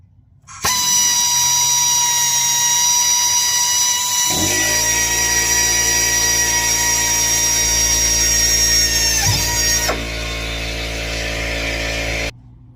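Power drill boring holes into a 26/27 T roadster frame, a loud steady high whine with squealing tones as the bit cuts metal, the motor pitch dropping midway and spinning down near the end.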